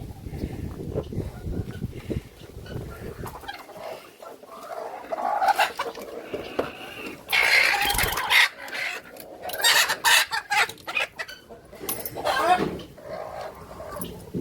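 Native country chickens clucking and calling close by in a yard, repeated bursts of clucks with a rooster crow among them, and people talking intermittently.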